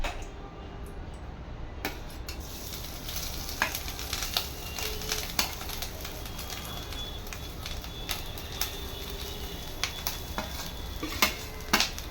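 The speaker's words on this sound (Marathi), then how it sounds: "तुपामध्ये परतून थोडंसं सुकं करायचं आहे आपल्याला" Grated coconut from two coconuts is stirred and roasted in ghee in a pan for coconut barfi. A low, steady sizzle runs throughout, and a spoon scrapes and clicks against the pan at irregular moments.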